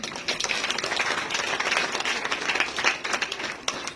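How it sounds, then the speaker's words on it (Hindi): An audience claps at a Shivratri spiritual talk marking the inauguration of a Birla Center, a steady, dense patter of many hands at moderate loudness that holds for several seconds without a break. "ताली बजाई तो दम नहीं आया"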